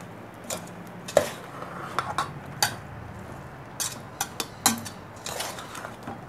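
Utensils stirring a Thai glass noodle salad in a bowl, giving a run of scattered clinks and scrapes at an irregular pace, close and fairly quiet, with no talking.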